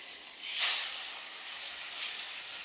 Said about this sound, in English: And then we'll go ahead and sear it.